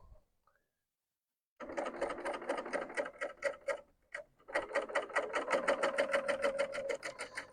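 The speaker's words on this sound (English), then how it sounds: "we'll just sew all the way down" A serger stitching down a fabric strip while its knife trims the excess edge: a fast, steady mechanical rattle, close and fairly loud, stopping briefly once before running on.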